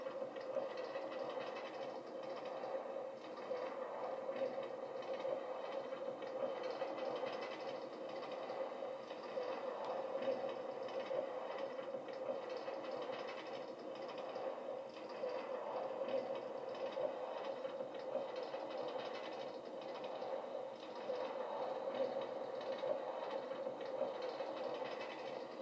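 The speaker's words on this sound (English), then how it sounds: "that was a great ride on the monorail" A monorail ride in a Minecraft amusement park produces a faint, steady train-like rumble with a soft clickety-clack running throughout.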